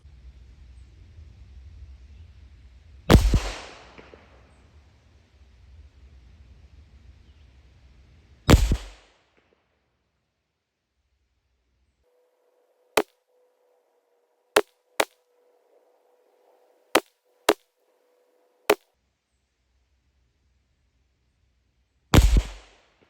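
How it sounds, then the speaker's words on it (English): Pistol shots fired at a range during a final confirmation group: about ten sharp, widely spaced single reports, loud and close, with the first few ringing out longer and a faint tone humming between later shots. "we're going to shoot like a final 10-round confirmation group for all the marbles"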